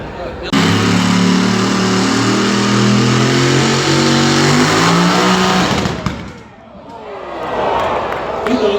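A big 5.7-liter Hemi V8 engine revs hard and loud for several seconds, then cuts off abruptly, followed by a quieter rumble and crowd noise.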